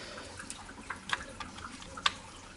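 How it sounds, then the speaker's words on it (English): Water draining from a brand new Bradford White water heater tank, heard as faint, irregular drips and small splashes at a quiet level, scattered through the stretch with no talking. "But brand new water heater tank, and I'm draining it"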